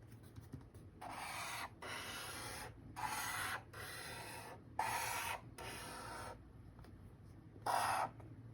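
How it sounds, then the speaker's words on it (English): A pen or crayon scratches a zigzag line across paper in short, separate strokes with brief pauses between them. The sound is faint and close, with no talk over it. "Next, I'm going to draw a zigzag line right on top of"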